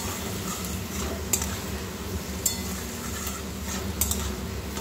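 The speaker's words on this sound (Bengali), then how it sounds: "খুব ভালোভাবে মশলাটার সাথে সবজিটা কষিয়ে নেব" Potatoes and cauliflower stir-fried with spices in a pan, a spoon scraping steadily against the metal over a low, constant sizzle, with a few sharper clinks standing out.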